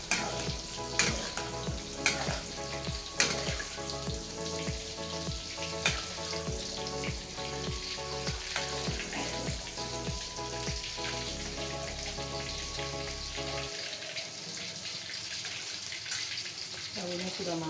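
Tofu fries in oil for an Indonesian stir-fry, crackling and spattering close by through a long stretch, with repeated scraping and stirring strokes and a steady undertone of hiss.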